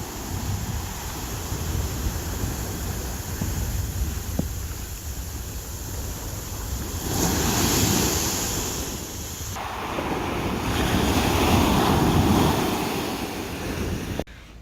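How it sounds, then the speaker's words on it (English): Pacific Ocean waves at Cabo San Lucas surge and break on a resort beach in rolling swells, with wind buffeting the microphone. "some of these waves are huge"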